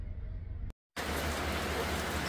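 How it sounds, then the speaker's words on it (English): Steady rain pours outdoors on a hiking trip along the Appalachian Trail in North Carolina, a dense hiss that cuts out for a moment and then resumes at full strength. "it's definitely raining."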